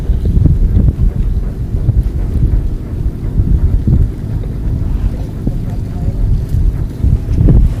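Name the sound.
strong wind at sea while fishing from a boat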